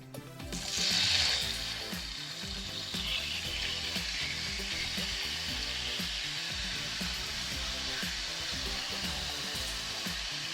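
Oil heating in a hot pan over medium to high heat before beef goes in for bulgogi, giving a steady, loud sizzling hiss that swells near the start and then holds evenly throughout.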